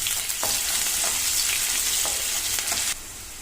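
Onions fry in hot oil with salt and turmeric, a loud, steady, close sizzle broken by a few stirring scrapes, which drops off sharply near the end.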